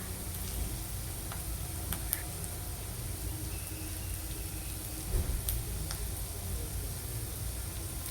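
Garlic and coriander seeds fry quietly in a pan for a Tirunelveli-style coriander thuvaiyal, a soft continuous sizzle with scattered small crackles and pops, fairly faint and without voices.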